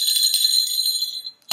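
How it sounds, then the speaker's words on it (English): A small jingle bell on a cat's collar rings in a bright, continuous shimmering tinkle, close and clear, stopping briefly before a soft thump at the end. "the jingle bell on the cat's collar"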